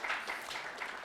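Lecture audience applauding: a soft, steady patter of many hands clapping, heard faintly from a distance and continuing throughout.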